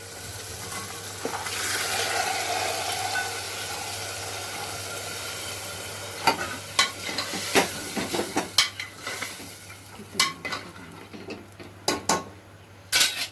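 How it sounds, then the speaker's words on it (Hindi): Chickpeas and water pour and splash into frying masala in a hot pan, then sizzling settles while a spoon scrapes and clinks against the pot in irregular strokes. "इसमें चना डाल दीजिए पानी के साथ"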